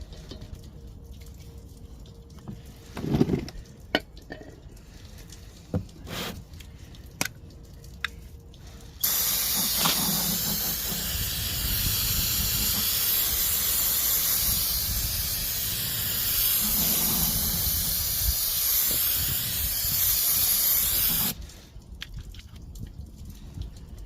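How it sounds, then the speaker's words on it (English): Brake cleaner sprayed from an aerosol can onto a new oil-packed brake rotor for a 2009 Chevy Cobalt, one long loud continuous hiss of about twelve seconds framed by quieter clicks and handling noises before and after. "the first thing I'm going to do is clean it off with some brake clean."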